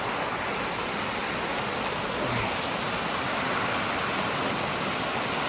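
A mountain waterfall in the Central Highlands of Vietnam, a loud, unbroken broadband roar of rushing water that stays constant throughout.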